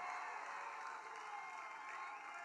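Audience applauding for Dr. Samia Suluhu Hassan at a public water-projects event in Tanzania, a steady dense wash of clapping and crowd cheering held at an even level throughout, with no pause.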